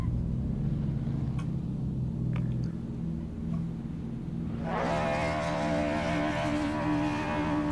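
Honda S2000 in a touge racing video game: a low, steady engine drone that rises sharply into a higher, buzzing rev near the end, heard alone.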